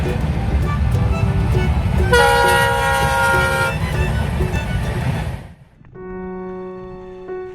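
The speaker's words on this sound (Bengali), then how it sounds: "ঝক ঝকা ঝক ঝক করে ট্রেন চলে গেল" A train rolls past beside mustard fields with a loud, steady clattering rumble, sounding its horn in a long blast midway; the rumble then cuts off and a second sustained horn blast follows closer by.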